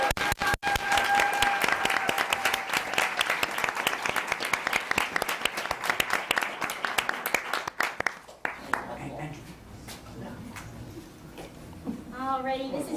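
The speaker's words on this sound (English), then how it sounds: "let's have some more applause" Audience at an awards event applauds a fifth-place team called to the front, loud steady clapping for about eight seconds before it drops away and a person starts talking.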